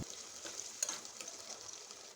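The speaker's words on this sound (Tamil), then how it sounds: "இது நல்லா ஃப்ரை ஆகட்டும்." Onion and green chili frying in hot oil for sambar, a steady soft sizzle running throughout at moderate level with a brief sharper crackle near the middle, no voices.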